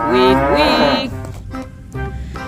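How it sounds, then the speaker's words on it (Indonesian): A cow moos once, loud and close, with a long drawn-out call that trails off into quieter breathy sounds. "Wow, ternyata ada hewan sapi. Sapi mo."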